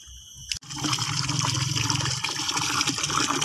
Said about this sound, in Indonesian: Kita aduk teman-teman agar oreanya ini cepat larut ya, tercampur dengan air